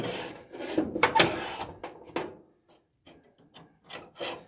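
Scraper rasping creosote from the inner walls of an antique wood cook stove: a run of rough, close scrapes, dense at first, then shorter, spaced strokes with brief pauses between them.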